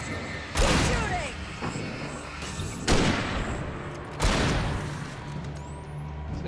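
Gunfire in the video game Alan Wake, three loud broadband shots about every one and a half seconds over a steady rumbling game backdrop, with no talking.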